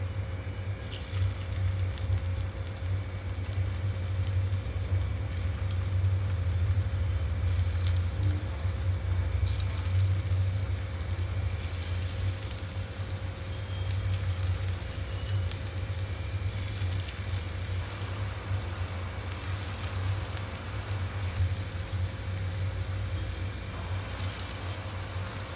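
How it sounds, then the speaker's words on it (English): A steady, dense crackle and sizzle of marinated soya chunks frying in hot oil for pakoda, continuous and fairly even throughout, with no voices. "So we are going to fry the marinated soya."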